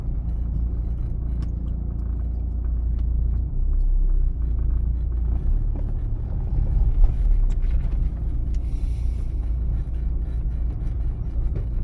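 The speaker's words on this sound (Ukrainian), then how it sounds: "Вмикаємо першу передачу, об'їжджаємо ями, наскільки це можливо." A car pulls away in first gear on a pothole-filled street during a driving test route, producing a steady low engine rumble heard from inside the cabin, with faint rattles and no talking.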